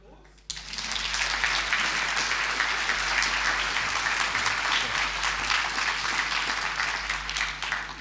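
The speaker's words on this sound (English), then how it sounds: "I think that deserves a round of applause" A large audience at a public forum on Auckland's future and urban density breaks into applause, a broad, steady clapping roar that starts abruptly and stays loud for several seconds over a low hum.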